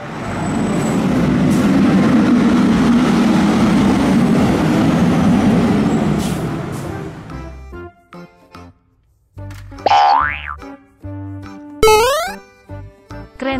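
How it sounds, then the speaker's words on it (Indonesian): A toy fire truck gives a rumbling noise that fades out, followed by electronic tune notes and quick rising siren-like sweeps, loud and close. "Mobil truk pemadam kebakaran."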